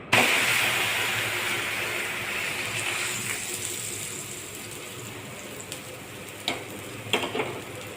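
Bottle gourd dhapate, parathas made with yogurt and garlic paste, sizzle on an oiled griddle. A steady close frying hiss runs throughout, with a few soft clicks and taps near the end.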